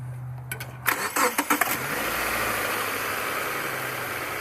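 A Subaru car engine cranks with a few quick, loud turns and then catches, settling into a steady idle close by.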